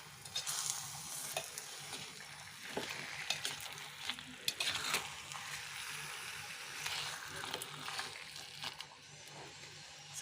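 Fish curry with green chillies and masala is stirred in a hot pan, giving a steady sizzle and frying hiss with repeated scraping of the spoon through the mixture, close and continuous, with no voices.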